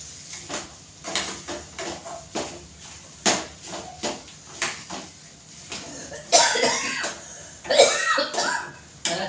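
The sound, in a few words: coughing fit from chili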